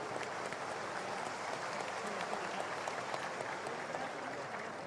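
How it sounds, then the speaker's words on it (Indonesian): Steady applause from an audience at a gathering of Islamic scholars in Solo, sustained and dense, with clapping filling the whole stretch and no talk over it. "Sekali lagi tepuk tangan untuk Majelis Tafsir Al-Quran."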